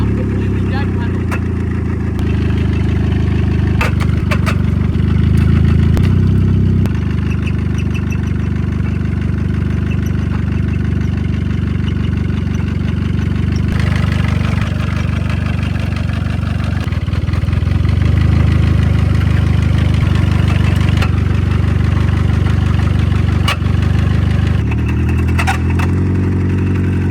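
A cheap Nissan car engine with small gravel dumped inside it idles loud and close, unable to rev, with a steady rough drone and faint rattles, while someone talks over it.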